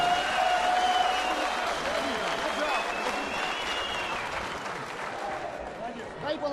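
Crowd applause and cheering at a European Championship boxing quarter-final, a steady dense roar of clapping filling the whole stretch with no letup, loud and close.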